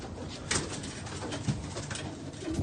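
Racing pigeons coo softly at a loft as birds arrive home from a young bird national race, repeated low throaty coos close by, with light flutter and background rustle and no talk.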